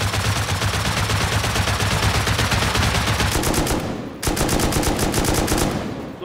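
Sustained automatic gunfire with explosive ammunition in the survival game Rust, loud rapid rattling bursts with a brief pause before firing resumes.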